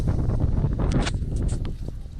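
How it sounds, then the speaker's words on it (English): Steady wind buffeting the microphone in Fergana, Uzbekistan, a low rumbling roar with gusty rushes that swell and fade throughout. "No one warns you how windy it is."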